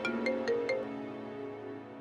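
A phone ringtone for an incoming call rings at moderate volume, a short repeating melodic tone pattern in the first second that then fades out, with no talking.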